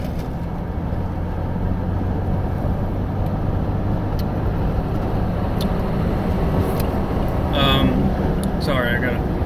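Steady low road and engine rumble from inside a moving car, continuous and fairly loud throughout, with a brief higher whine near the end; no clear talk over it.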